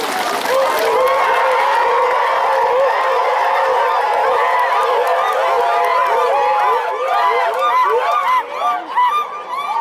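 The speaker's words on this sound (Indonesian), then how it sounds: "Boleh tepuk tangan Bapak Ibu sekalian." Loud, sustained applause from a large crowd, continuous clapping that thins out slightly near the end.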